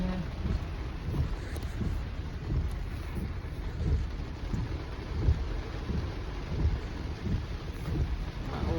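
Rain falling in Los Angeles, a steady dense patter mixed with wind buffeting the microphone and low rumbles, continuous and moderately loud with no talking.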